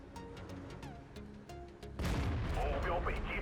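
Tank cannon shots in World of Tanks during a fight with an AT-15 tank destroyer: booming game gunfire with a sudden loud burst midway, over steady battle noise and engine rumble.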